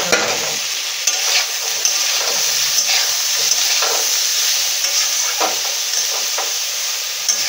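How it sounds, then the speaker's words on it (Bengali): Jackfruit pieces fry in hot oil with a steady close sizzle and hiss, broken by several scraping stirs of a spatula through the pan; no voices. "বাকি এঁচোড়গুলো ভেজে নেবো।"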